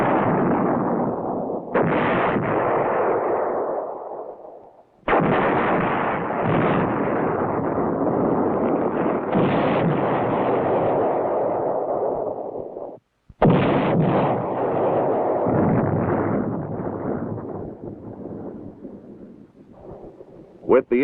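Heavy artillery shells fired on a pre-planned position in a 1969 military battlefield setting, with three long, loud rolling blasts, each booming and fading over several seconds before the next begins.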